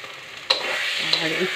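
Bottle gourd seeds being stir-fried in a pan make a soft sizzle, broken by a couple of sharp scrapes of a spatula against the pan, close.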